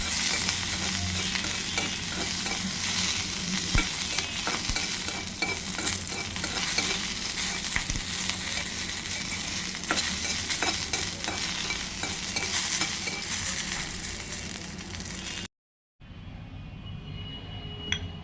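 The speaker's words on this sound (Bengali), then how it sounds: "এখন আমি সামান্য তেলে মরিচগুলো ভেজে নিচ্ছি।" Chilies frying in a little oil for a prawn bhorta, a loud, dense, continuous sizzle with faint stirring, dropping out abruptly near the end before a quieter hiss returns.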